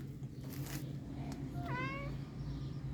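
An old cat meows softly indoors, a single rising-and-falling meow about halfway through over a steady low hum, with no one speaking during it.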